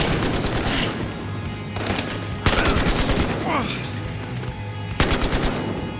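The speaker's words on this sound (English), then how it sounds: "Man, I'm getting shot from each and every way." Gunfire in the video game Battlefield Hardline: bursts of automatic fire and sharp loud cracks arrive in clusters, close and punchy, with a couple of especially heavy hits amid the game's background noise.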